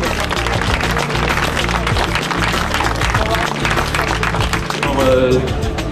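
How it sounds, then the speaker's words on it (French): Crowd applause at the cycling podium of the Essor Breton 2011 in Landerneau, a steady wash of clapping and cheering that runs the whole time beneath an announcer's voice over a loudspeaker. "On applaudit le lauréat du classement du meilleur jeune, Étienne Tartelier."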